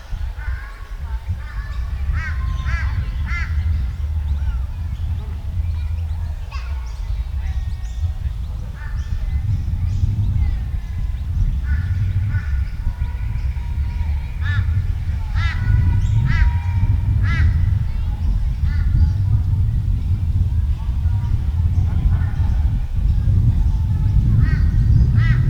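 Birds calling outdoors amid trees, with repeated bright chirps and calls scattered over a steady low rumble of ambient outdoor noise, the calls moderately distant and continuing throughout.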